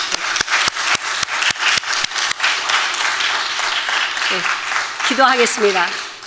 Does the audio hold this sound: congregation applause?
yes